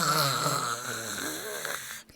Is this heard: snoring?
yes